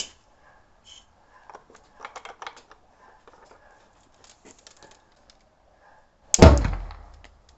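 A homemade potato gun charged with oxygen and fuel fires with one loud, sudden blast near the end, after several seconds of faint scattered clicks and handling noises.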